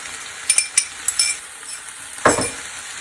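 Sliced ginger stir-fried in a pan without a wok, several light clinks of a utensil against the pan followed by a short burst of sizzling as the ginger hits the hot oil.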